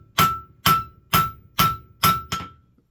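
Five evenly spaced, ringing hammer blows strike round steel stock on an anvil as it is forged into a hex, each hit sharp and close with a short metallic ring in a steady rhythm.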